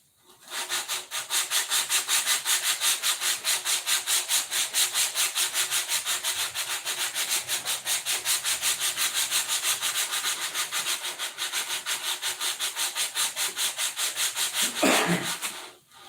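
A wooden part is hand-sanded with steady back-and-forth strokes in a small apartment, each rasping pass close and even in rhythm, continuing alone for about fifteen seconds.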